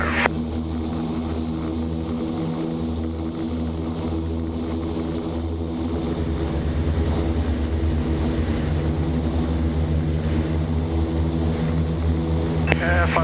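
Inside the cockpit of the Martin Mars "Hawaii" flying boat, the piston propeller engines drone in a loud, steady, layered hum that rises slightly partway through, with crew voices talking faintly over it.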